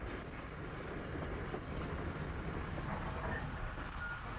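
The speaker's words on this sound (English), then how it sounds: "The train had stopped at a small halt." Train in a radio drama drawing to a halt at a small station, a steady rumbling roll of wheels and carriage noise that stays even and moderately loud throughout, with no voices.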